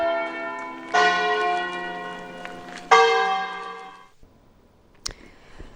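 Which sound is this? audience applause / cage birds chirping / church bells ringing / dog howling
church bells ringing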